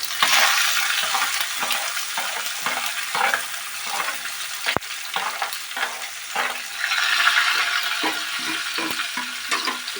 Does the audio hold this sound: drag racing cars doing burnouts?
no